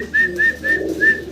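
A King pigeon coos four quick, evenly spaced times, close and clear, over a low background hum.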